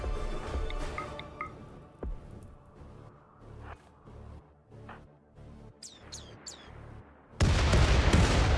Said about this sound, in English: Let's hit them with HE volley.